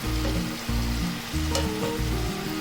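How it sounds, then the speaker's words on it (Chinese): Potato fries bubble and sizzle in hot oil left on residual heat after the second fry, a steady, close, crackling hiss with no voices. "看油温还在冒泡泡呢"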